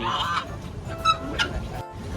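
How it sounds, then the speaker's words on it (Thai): Faint honking quacks from a few ducks, intermittent over a low background hum, at a farm. "เป็ดมาแล้ว"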